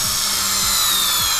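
Power drill briefly whirring in three short bursts as screws are driven into a wooden loom frame for weaving bracelets, over a steady high-pitched background hiss.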